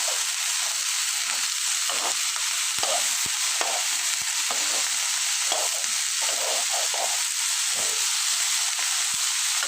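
Cauliflower and potato fry in a pan with little oil, producing a loud, constant close-up sizzle broken by soft, repeated stirring scrapes.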